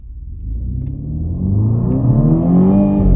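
A 2020 Mini Cooper Countryman JCW engine starts low and slowly builds, its pitch climbing steadily as the car accelerates with sluggish response, heard close and growing louder with no talking.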